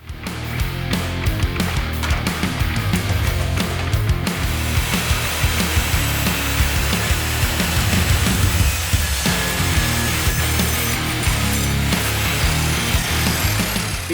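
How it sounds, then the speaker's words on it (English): A mitre saw cuts into a 9-volt battery, sounding as a loud, sustained, harsh grinding whine with rapid rattling chatter that roughens and shifts partway through the cut. "I've got one bonus item to stick in the cutter"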